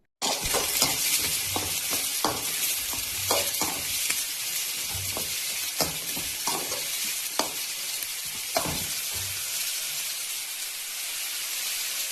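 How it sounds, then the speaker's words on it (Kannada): Onions frying for a Karnataka-style egg palya sizzle steadily in a pan, with repeated sharp clicks and scrapes of a spatula stirring them throughout, close and fairly loud with no talking. "ಮೊಟ್ಟೆ ಪಲ್ಯ ಈರುಳ್ಳಿ ಫ್ರೈ ಮಾಡ್ಕೊತಾ ಇದ್ದೀನಿ."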